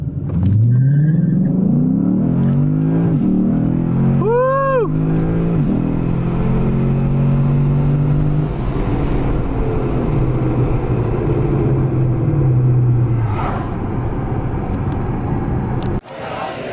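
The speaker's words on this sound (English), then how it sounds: "Lexus ISF, let's go." Lexus IS F on a race track, loud engine revving up and down through gear changes as the car drives past close by, followed by a sharp cut near the end.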